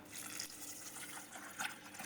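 Water pouring into a pot of Palakkad-style dal with turmeric, coriander powder and salt, a steady splashing, running wash close by with a brief louder gush near the end.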